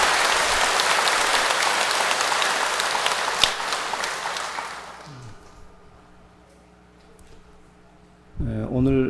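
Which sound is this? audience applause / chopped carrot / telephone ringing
audience applause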